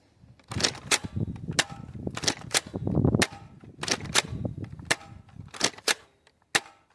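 A Dart Zone Magnum Superdrum blaster fires Adventure Force waffle foam darts outdoors, giving about a dozen sharp, loud pops in irregular succession, with mechanical clunks and rattling between shots.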